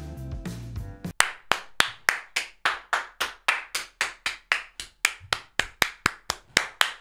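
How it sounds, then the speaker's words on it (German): Hands clap in a steady, even rhythm of about twenty sharp, close claps after a brief jumble of other sound at the start. "Da kann man klatschen, da kann man ruhig klatschen."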